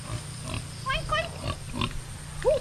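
Domestic pigs on a farm pen by a wallowing area give several short nasal grunts and snorts at moderate distance, with a louder squeal-like grunt at the end and people talking nearby.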